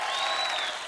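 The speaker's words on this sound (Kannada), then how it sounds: "ಜೋರಾಗಿ ಚಪ್ಪಾಳೆ" Loud applause from a studio audience at a comedy show, steady and dense clapping filling the whole short moment with no voices over it.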